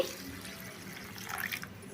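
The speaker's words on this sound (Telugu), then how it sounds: "ఇప్పుడు దీంట్లో నీళ్ళు పోసుకొని" Water pouring into a bowl of fried dried fish for soaking, a soft continuous splashing stream, fairly quiet and close.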